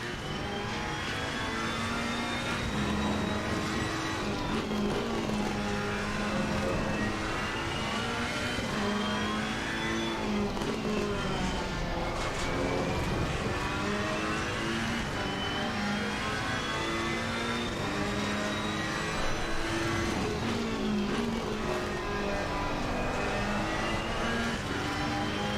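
A Ferrari race car engine in a racing video game roars loudly and without a break, its pitch climbing and falling through gear changes for the whole stretch, with no talking over it.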